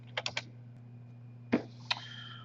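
Someone types code on a computer keyboard, producing a quick cluster of three clicks, a pause, then two more isolated key presses over a faint steady hum.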